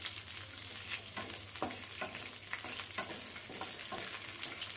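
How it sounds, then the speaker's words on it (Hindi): Ingredients for a spicy kadai paneer shallow-frying in a kadai over a high flame, a dense, continuous sizzle with intermittent stirring clatters, close and alone. "बस शैलो फ्राई करना है, तो कच्चा ही रखना है, हाई फ्लेम से बस शैलो फ्राई।"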